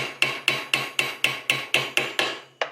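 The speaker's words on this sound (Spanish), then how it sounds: "los martillazos" A hammer drives nails into a wooden beehive frame with nine sharp, evenly spaced blows about a quarter second apart, loud and close, with no talking.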